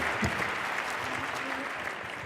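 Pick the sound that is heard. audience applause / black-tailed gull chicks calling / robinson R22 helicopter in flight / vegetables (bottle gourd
audience applause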